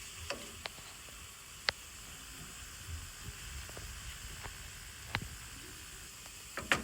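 Spinach sautéing in a pan, a soft steady sizzle with scattered light clicks and taps of stirring, faint and close with no voices.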